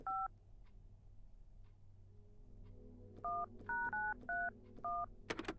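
Telephone keypad tones in a Spanish indie horror game, one short dual-tone beep at the start, then a run of five more beeps in quick succession after a quiet pause, over a low ambient hum.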